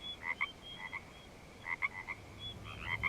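Frogs call outside after rain has stopped at night, bursts of clustered croaks repeating every second or so, clear and fairly close over a low ambient hum.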